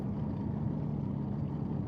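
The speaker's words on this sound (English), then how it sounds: "And they certainly would have heard the sound of the boat." A low, steady boat engine drone hums continuously without pause, a constant motor rumble heard up close.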